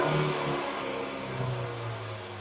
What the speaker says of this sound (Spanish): al pasarlo al acelerador no hay que acelerar bruscamente porque el carro va a hacer